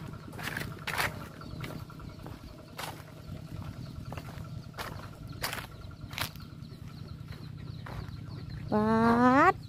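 Chickens cluck in short, irregular bursts close by, over a low background murmur. A louder, drawn-out rising call breaks out right at the end.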